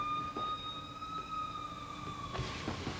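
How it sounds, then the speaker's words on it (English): Emergency vehicle sirens wail outdoors at a distance, a steady rising and falling tone running through the whole stretch with faint background rumble. "There are a lot of sirens going on as I try to make this video."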